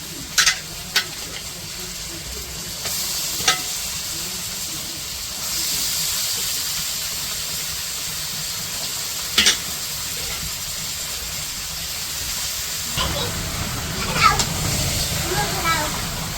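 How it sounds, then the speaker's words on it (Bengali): Washed meat pieces dropped into a pan of fried spice paste in a village kitchen, a steady hiss and sizzle running throughout with a few sharp clatters and a louder burst near the end. "এখন এই যে কাইটা ধুয়ে রাখা মাংসগুলো দিতেছে"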